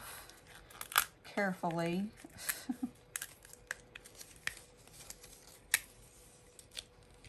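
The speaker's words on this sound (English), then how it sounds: "we're just peeling this off" Printed stickers are peeled off their backing sheet in close, quiet bursts of crackling and tearing, with soft speech and a brief hummed tone early on.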